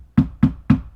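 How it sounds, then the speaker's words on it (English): Three quick, firm knocks on a wooden door, evenly spaced and close, with dull thuds and silence between. "After some time, there's a quick knock on the door"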